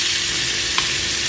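Bacon-stuffed green beans fry in a pan with a dense, continuous sizzle and crackle, loud and close, with one brief clink as they are turned.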